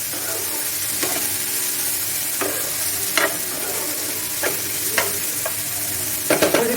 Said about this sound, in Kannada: ಇದು ಫ್ರೈ ಆಗ್ತಾ ಬಂದಿದೆ.